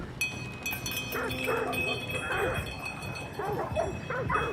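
Dogs in the video game Hunt: Showdown bark and whimper faintly in the distance over a steady background hum, with a few scattered yips.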